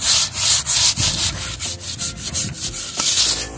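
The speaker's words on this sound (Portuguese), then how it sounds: "Tem que lixar bem as madeiras para tirar o craquelado antigo do verniz." Sandpaper worked by hand over wooden chairs and tables to strip old cracked varnish, giving close, steady back-and-forth rubbing strokes in a quick repeating rhythm with no talking.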